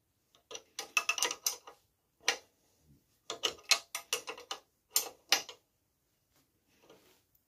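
Nut being tightened by hand on the engine silent block of an MBK Kansas motorcycle, a series of quick ratcheting clicks in short bursts with brief pauses between them, close and crisp, with no talking.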